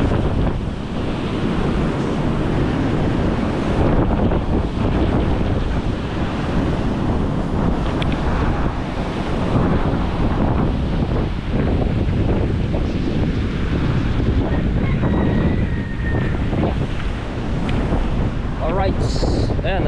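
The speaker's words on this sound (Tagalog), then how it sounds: "Bahay ni Chong naaabot na ng alon." Continuous roaring surf reaching houses on a flooded coastal road in Bucana, with strong wind buffeting the microphone, loud and close, with no break for the whole stretch.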